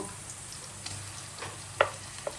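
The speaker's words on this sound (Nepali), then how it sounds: "यो ग्रेभीको लागि प्याज फ्राई गर्दै छु" Onions fry in a pan for mutton gravy, giving a steady low sizzle with a couple of sharper crackles and a faint scrape of stirring, no voices.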